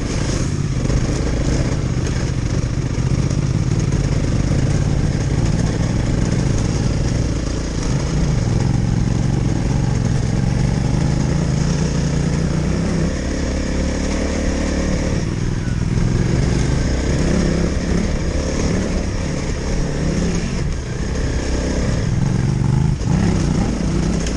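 A Honda CRF 300 L motorcycle rides off road, its engine droning steadily and loud throughout with slight rises and dips in revs, no talking.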